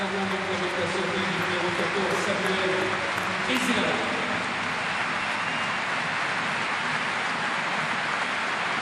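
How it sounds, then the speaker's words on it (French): Crowd at the U Arena stadium in a rugby match cheering and applauding a young Clermont player, a steady roaring wash of noise from a large audience, with a commentator talking over it. "le public de la You Arena acclame le jeune joueur de Clermont"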